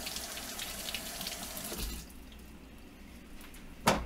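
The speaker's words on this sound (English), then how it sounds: "All right, so potatoes. Rinse them off." Tap water runs steadily while potatoes are rinsed under it in a kitchen, a continuous hiss that eases off midway, ending with a sharp clunk.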